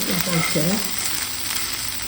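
Grated coconut frying in a pan as it is stirred, giving a steady, close hiss of sizzling with faint scraping, while a few brief tonal sounds rise over it early on.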